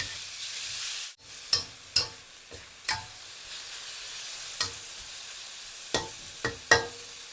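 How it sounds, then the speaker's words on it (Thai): Pork stir-fried in a pan for a Thai sweet and sour dish, a soft continuous sizzle punctuated by sharp intermittent clacks of the spatula striking the pan. "ผัดได้พอหมูสุก"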